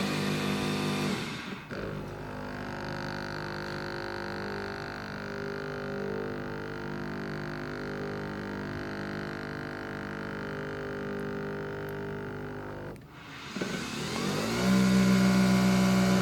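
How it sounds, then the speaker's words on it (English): A Nespresso Vertuo coffee machine brews with centrifusion, spinning the capsule to force coffee through; a steady motor-like whirring hum runs for about eleven seconds, loud and close, with quieter sounds before and after. "You can hear that centrifusion technology working now. It's forcing the coffee through."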